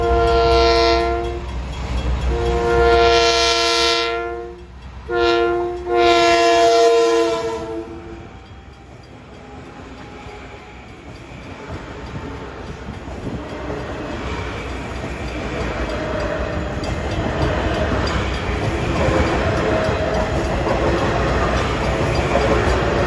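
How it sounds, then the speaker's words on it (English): Long Island Rail Road commuter train hauled by M9 cars near Deer Park, arriving from New York and bound for Ronkonkoma, sounding loud sustained horn blasts in a long-long-short-long pattern, then a growing rumble and rail clatter as it rolls closer. "We got train 2050 arriving from New York to Ronkonkoma."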